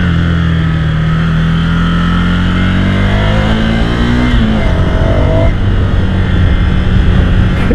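A Ducati motorcycle engine hums steadily and rises in pitch as it revs, then drops back, loud and close, with a continuous rumbling underneath.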